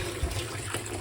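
Water from a tap running steadily into an empty container to fill it, a continuous close splashing trickle with small surges, heard alone.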